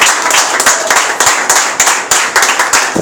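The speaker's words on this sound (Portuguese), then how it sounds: "Aplauda o Senhor." A church congregation claps during a Sunday evening service, loud and close, in rhythmic bursts of hand claps that rise and fall in a steady pulse.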